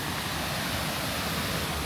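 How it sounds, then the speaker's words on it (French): Small waterfall in Indonesia, a steady broadband rush of falling water, continuous and fairly close with no breaks or voices. "On va visiter une petite chute d'eau, une petite cascade, waterfall."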